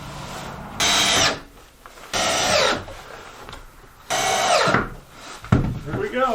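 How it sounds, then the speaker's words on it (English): Power drill driving a screw into clamped wood during home wall framing, with three short whirring bursts separated by pauses and some faint talk in between. "Let's screw it in."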